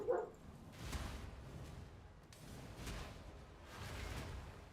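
A dog gives a single sharp bark at the start, then only a faint, muffled rumble of background noise continues with no talking.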